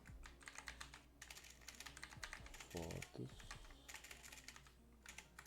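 A faulty computer keyboard clatters with quick bursts of key presses and uneven pauses, close and crisp, while a person briefly speaks partway through.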